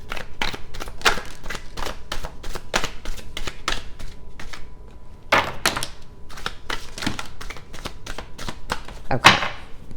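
A deck of cards is shuffled by hand, giving a steady run of crisp riffling and tapping bursts at close range with a louder snap near the end.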